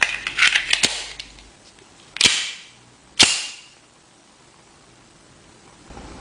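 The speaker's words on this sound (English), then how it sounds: "we load the pistol to fire at the bulletproof vest" A .45 ACP 1911 pistol loaded with VBR Belgium armor-piercing rounds fires at a bulletproof vest, a few sharp cracks spaced about a second apart, preceded by small mechanical clicks and handling noises.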